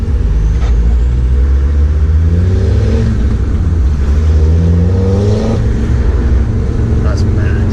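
Land Rover Defender Td5 with a Stage 2 remap accelerating hard from inside the cab, engine drone climbing steadily in pitch through the gears as the turbo builds, loud and continuous.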